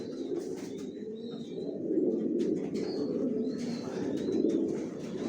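Pigeons cooing steadily in a loft, including birds sitting on eggs, a continuous low rolling murmur of many birds nearby with occasional higher chirps, no talking.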